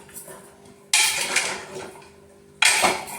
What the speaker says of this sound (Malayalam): ഇനി ഇത് ഒന്ന് ഇളക്കി